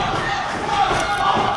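Fans roaring and cheering during a professional wrestling battle royal as a wrestler is eliminated over the top rope, a dense continuous crowd din with thuds from the ring beneath it.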